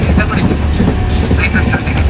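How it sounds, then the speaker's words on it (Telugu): An arriving train rumbles close by with heavy low-end noise and rhythmic clattering, carrying on steadily for a couple of seconds. "ట్రైన్ వస్తుంది."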